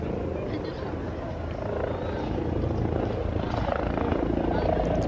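Helicopter flying overhead in a city, a steady, fairly distant rotor and engine drone running throughout with a person talking over it.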